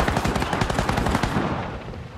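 Fast, continuous machine-gun fire in the World War II partisan game Partisans 1941, a loud, dense rattle of rounds that cuts off toward the end.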